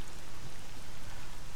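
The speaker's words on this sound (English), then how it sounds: "And it's raining again." Steady rain falls in a video game set around Pripyat, a dense, even hiss filling the scene for the whole moment with no voices over it.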